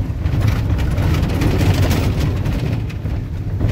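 A car engine runs steadily on a dusty road trip in the Minas Gerais countryside, a continuous loud low rumble with road noise and no talk.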